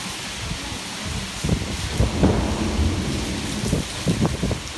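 A severe thunderstorm with 40 mph wind and penny-size hail, steady heavy rain hissing over everything while low thunder rumbles and cracks repeatedly throughout, with no talking.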